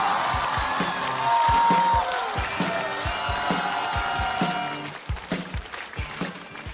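A studio audience at a stand-up comedy show applauds and cheers a comedian's entrance, with rhythmic thumping beats and a musical sting under the clapping, which then fades toward the end.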